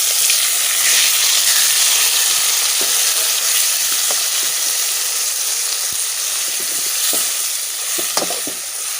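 Tomatoes and garlic fry in a pan with a loud, steady sizzle and hiss, broken by occasional faint clicks of stirring.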